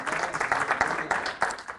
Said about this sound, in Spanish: ¿Cuánto le dan un aplauso a Dios en esta noche?